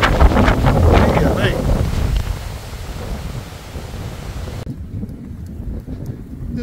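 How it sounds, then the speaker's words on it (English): Strong wind gusts in the Peak District roar against the microphone, loud at first and then settling into a lower rumble before cutting quieter. "Still windy."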